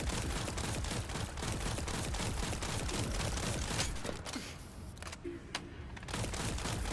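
Dense, continuous hip-fire gunshots in a video game, a rapid loud barrage that fills the whole stretch and thins only slightly toward the end.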